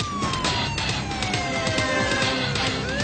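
A police car siren wails during a highway chase, its tone sliding steadily downward, loud and continuous over rumbling traffic noise.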